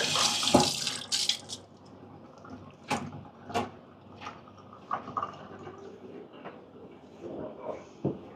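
A wet, soggy espresso puck from a Bezzera Magica PID machine is rinsed under a tap, heard as a brief gush of running water followed by scattered knocks, clatters and splashes in a quiet room.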